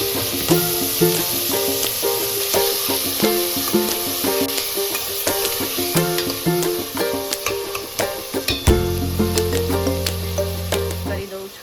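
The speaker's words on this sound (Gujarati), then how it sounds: "શાક વઘારી દઈએ." Vegetables tempered in hot oil on a home stove for a Gujarati dish, a steady loud sizzle with stirring clatter, and a brief bright crackle near the end, no talk heard.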